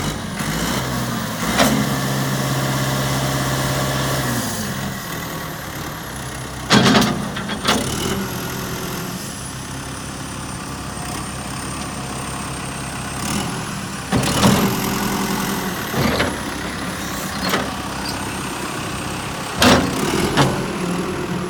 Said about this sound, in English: It's a really good running backhoe.